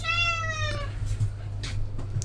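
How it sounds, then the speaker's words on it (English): A house cat meows once, a clear descending call near the microphone, followed by quiet room tone with a low steady hum underneath. "I think Cat's getting hungry."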